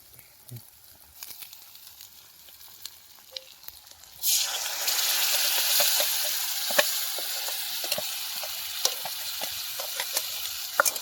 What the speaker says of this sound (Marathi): याच्यामध्ये धना पावडर सगळे मसाले याच्यामध्ये फ्राय करण्यासाठी घेतले आहे